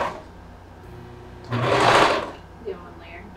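A home sewing machine makes a short burst of stitching through fabric during a beginner lesson, about half a second of rapid whirring in the middle, with quiet room sound and a soft click around it.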